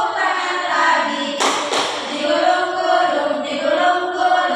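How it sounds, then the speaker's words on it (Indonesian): Children in a 4th-grade classroom clap their hands together in a quick burst of two sharp claps amid a singing, chattering class. "Buka tutup, tepuk tangan lagi."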